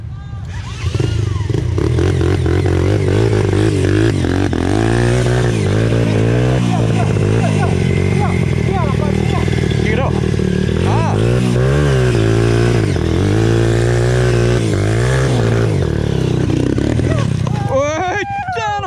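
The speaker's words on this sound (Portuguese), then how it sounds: "Tá chucra essa moto." Trail motorcycle engine on a dirt trail at a riders' meet in Bom Retiro do Sul, revving and straining with rising and falling pitch, loud and close for most of the stretch while people talk and shout nearby.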